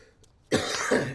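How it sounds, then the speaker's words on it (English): A single harsh cough after a moment of quiet, close and loud, with a second rough burst following it. "I need to get this cough under control"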